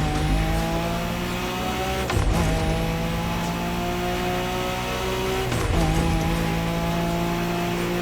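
Car drifting in the MotorFest racing game, a steady loud engine drone with long squealing tire slides, two sharp shifts or bursts breaking the sustained whine, no voices.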